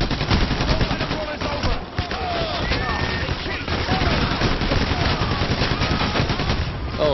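Heavy gunfire in the heist shooter PAYDAY The Heist: dense, continuous bursts of automatic and single shots crackle nonstop for several seconds, mixed with scattered game effects and voices.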